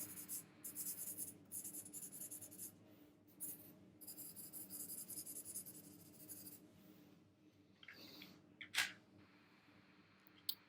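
Continuous scratchy rubbing of a colored pencil across paper, close and soft, with brief pauses and a couple of sharper taps near the end.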